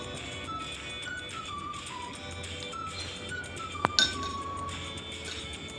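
Glass clinks as a spoon taps against a drinking glass while sweet condensed milk is added, with a sharp ringing strike near the end over a low background hum.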